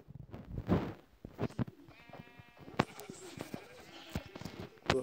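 Sheep bleating inside a survival video game, several short game-sound calls among clicks and hits, with some quieter background noise.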